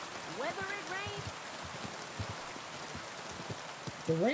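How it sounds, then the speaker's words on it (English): Rain falls steadily in the video game Kingdom Come Deliverance 2, a constant hissing patter with scattered drops, while voices speak over it at the start and end. "The rain is really loud."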